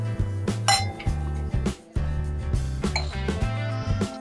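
Glasses clink together in a toast, a series of bright ringing chinks over a steady low musical background, close and clear with no talk.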